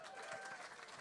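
Audience applause at a live blues piano showcase, a steady wash of clapping from the crowd filling the whole second at a fairly soft level.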